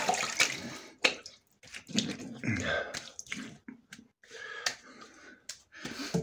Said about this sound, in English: So, I wash up my face.